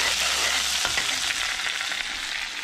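Onion with crushed ginger and garlic stirred in hot oil, a steady broadband sizzle with scraping spoon strokes, close and continuous, with no voices.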